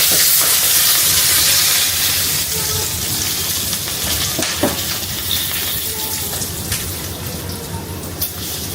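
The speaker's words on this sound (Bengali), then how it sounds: "এই বাকি তেলটুকুর মধ্যে আমি একে একে দিয়ে দেব গরম মশলা" Whole garam masala spices fry in hot oil, making a loud, close, continuous sizzle and crackle that is strongest at the start, then settles into a steady hiss with scattered pops.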